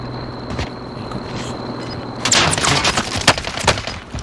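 Gunfire in a Call of Duty: Warzone match, with a few isolated shots at first, then a sudden burst of rapid automatic fire and sharp cracks from close range, continuing in uneven volleys.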